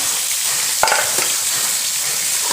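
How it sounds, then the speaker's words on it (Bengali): Fish sizzles steadily in hot oil in a frying pan, a close, continuous crackle with a couple of brief stirring clicks and no talking. "এইখানে মাছ ভাজা বসিয়েছি"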